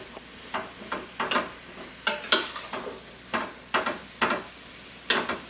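Turnips are stirred around a hot skillet to coat them in fat, a series of scraping, clattering strokes over a light sizzle, repeated in an uneven rhythm, close and without speech.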